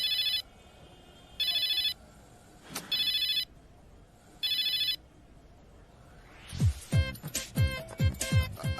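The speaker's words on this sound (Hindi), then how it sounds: "बेगम का फोन आ गया।" A telephone rings in repeated electronic bursts, steady and moderately loud, followed by a few rhythmic thumping knocks at the end.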